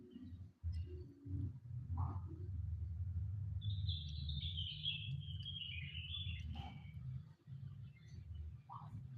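A white-breasted waterhen (ruak-ruak) in an aviary gives a few short, faint calls and a thin rising-and-falling chirp over a steady low rumble of background noise.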